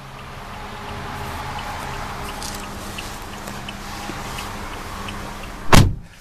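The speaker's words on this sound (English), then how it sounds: "The door closes with a pretty soft thunk." A 2014 Toyota Corolla S Plus door swings shut with a single soft, muffled thunk near the end, preceded by a quiet steady background hum with no talking.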